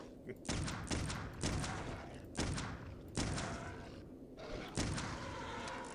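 Heavy gunshots from the video game Clive Barker's Undying, about seven loud booming blasts fired at an uneven pace, each trailing off with a short decay.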